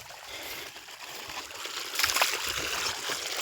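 Fresh water gushes directly from a motor pump on a farm, a steady close rushing and splashing stream that swells slightly louder toward the end, with no talk.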